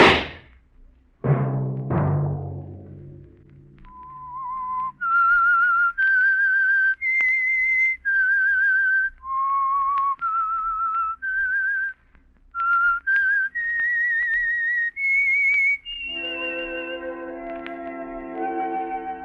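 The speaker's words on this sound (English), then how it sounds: "Let that whistle be your signal." Solo whistled melody serving as the theme of The Whistler radio program, a wandering tune of sustained notes with a slight echo, framed by a brief musical sting at the start and a chord at the end.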